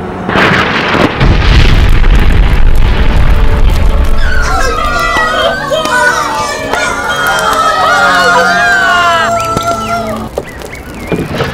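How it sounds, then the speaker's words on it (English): Bombs from aircraft exploding in a World War 3 movie: loud, heavy blasts rumble through the opening seconds, then give way to high, wavering cries and chatter. "They're dropping bombs!"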